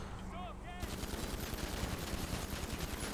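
Rapid automatic gunfire sprays in GTA 5 during a casino heist, a dense, steady burst of shots running loud and continuous after a brief opening with a voice.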